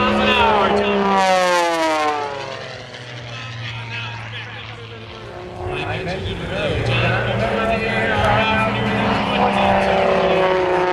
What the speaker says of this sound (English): He kicks in that left rudder and pivots the aircraft around itself in the hammerhead turn.